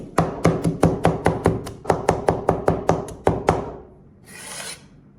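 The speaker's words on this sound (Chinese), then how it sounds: "我们准备一把蒜子，拍扁之后，我们再给它切上几刀，给它切碎" A knife chops smashed garlic cloves on a cutting board, a quick run of about fifteen sharp, close taps in steady rhythm, then a short scraping rasp as the pieces are gathered.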